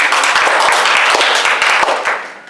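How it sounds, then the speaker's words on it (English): An audience at a library performance claps and applauds, a dense, loud, steady burst of many hands close by that fades off toward the end, with no talking over it. "Give her a round of applause."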